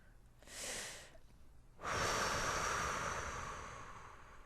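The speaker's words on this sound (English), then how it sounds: "Take a deep breath and close your eyes." A person takes a slow, deep breath, first a soft intake and then a longer, louder, close exhale that fades gradually, with no talking.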